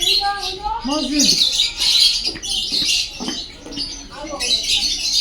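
A peacock calls at the Darjeeling zoo: harsh, squawking bird cries rise over a busy wash of high chatter, with people's voices talking close by.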